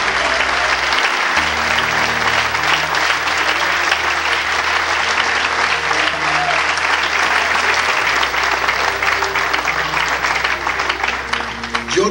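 A church congregation claps together during a Spanish-language sermon, sustained and dense applause filling the room with a low background tone beneath, continuing steadily without a break.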